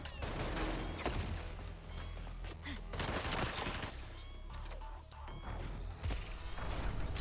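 Video game Suicide Squad: Kill the Justice League, support fire of rapid gunshot bursts and metallic crashes, mechanical clatter between volleys, moderately loud and continuous throughout.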